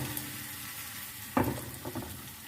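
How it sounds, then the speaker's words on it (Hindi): Onions frying in oil give off a soft, faint sizzle, with a few louder stirring scrapes in the middle of the clip. "प्याज को हम 2 से 3 मिनट के लिए फ्राई कर लेते हैं।"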